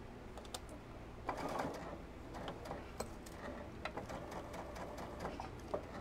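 A sewing machine stitches a plush horse toy in quick, quiet bursts of mechanical ticking, with brief pauses between runs and no talking.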